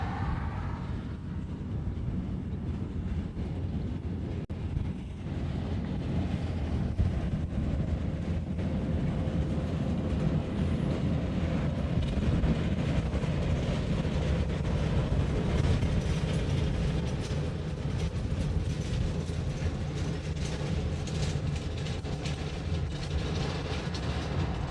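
A C-17 military transport aircraft rumbles steadily at close range throughout, a broad, continuous low roar with no talk.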